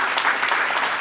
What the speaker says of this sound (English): Let's hear a little applause for that.